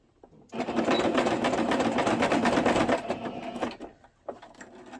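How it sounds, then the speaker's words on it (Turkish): A sewing machine stitches the first seam of a child's skirt in one close, steady whirring run of about three seconds. It slows toward the end, and a brief final burst follows a short pause. "Birinci dikişimizi yapmış olduk."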